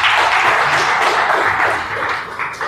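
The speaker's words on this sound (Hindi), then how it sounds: "तो अपने लिए तालियां बजाओ एक दफा।" A room of people applauding together, dense steady clapping close by that fades slightly toward the end.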